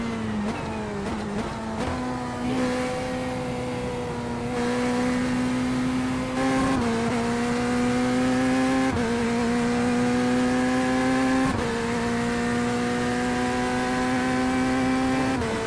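Hypercars race at Sebring in a racing video game, a steady engine drone with whining harmonic tones that rise and shift through gear changes as cars pass close by.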